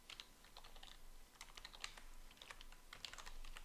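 Rapid, irregular keystrokes on a computer keyboard while writing in Microsoft Word, quiet but close, a steady patter of clicks with brief pauses and no talking.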